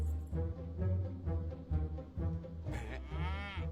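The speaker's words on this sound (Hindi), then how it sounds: "अच्छा भैंसे, प्यारी ओए, भैंसे।" A water buffalo lets out several deep, drawn-out moos close by, loud and resonant, ending in a higher rising bellow.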